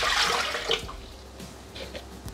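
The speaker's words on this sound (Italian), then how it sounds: "Iniziamo la ricetta mettendo all'interno del boccale l'acqua" Water poured into a Thermomix (Bimby) mixing bowl while preparing a potato and pea side dish, a loud splashing gush that tapers into softer trickling and drips.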